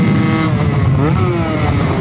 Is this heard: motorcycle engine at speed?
yes